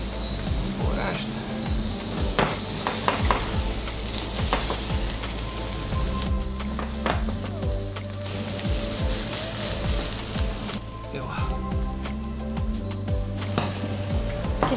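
Butter melting and starting to sizzle in a pan while a Christmas fish menu of zander is cooked, a steady close frying hiss with occasional stirring and utensil clinks throughout.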